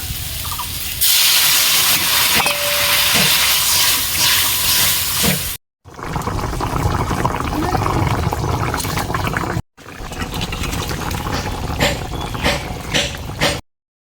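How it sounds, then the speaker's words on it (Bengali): Water is poured into spice paste frying in a pan for a fish curry, raising a loud, close steam hiss that runs in three stretches separated by short silent breaks. "এখন আমি জল দিয়ে দেবো।"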